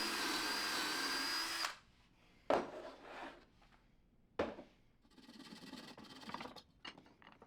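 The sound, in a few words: drilling pilot holes with pocket hole bit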